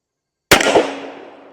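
A Bond Arms Snake Slayer IV double-barrel pistol fires a single .38 Special round outdoors, one sharp loud crack after brief silence, followed by a ringing echo that fades away.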